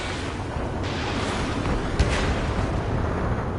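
Missile explosions in the video game Ace Combat 7, a dense continuous roar of blasts with a sharper bang partway through, loud and steady with no talk.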